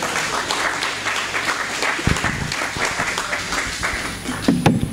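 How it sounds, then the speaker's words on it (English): Audience clapping at a MegaMeet tech session, a continuous room-filling round of applause with a few louder individual claps and faint background chatter. "let's all clap for Scott Clark."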